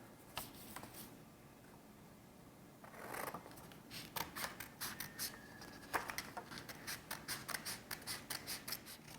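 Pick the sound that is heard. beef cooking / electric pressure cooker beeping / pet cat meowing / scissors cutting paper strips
scissors cutting paper strips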